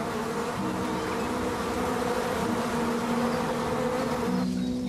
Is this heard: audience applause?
no